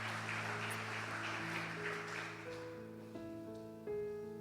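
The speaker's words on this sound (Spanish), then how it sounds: "Denle fuerte el aplauso" Applause from a church congregation during a Spanish-language sermon by Pastor Alejandro Dominguez, a dense steady patter of hands over sustained organ or keyboard chords that shift pitch near the end.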